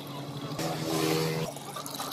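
A motorbike engine hums and swells up close as the rider pulls in to fill water, the tone rising in the middle before easing off again; no one talks over it.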